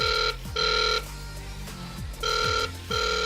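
A call from a DM88 smartwatch dialer rings out through the phone as a loud, repeating ring tone in regular bursts with short gaps between, sounding alone and close.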